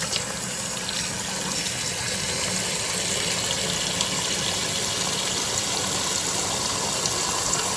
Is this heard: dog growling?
no